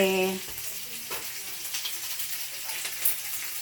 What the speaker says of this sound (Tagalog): nagpiprito na ako